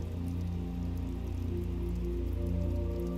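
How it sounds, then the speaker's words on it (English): Steady rainfall patters continuously on a surface, a dense even hiss of drops with a low rumble underneath, no voices. "And then a few more raindrops appear."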